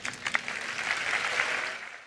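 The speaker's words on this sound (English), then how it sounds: "There are so many times people are just interrupted by applause." Brief, faint audience applause at the Google I/O 2022 keynote rises after a few sharper claps and holds as a soft, distant patter for about two seconds.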